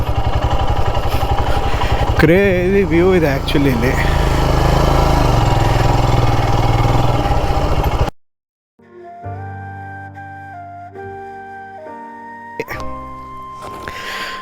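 Motorcycle engine running steadily and fairly loud for about eight seconds on a ride toward Gavi Rangana Betta near Bengaluru, then cutting out to quieter tonal sound, with brief speech.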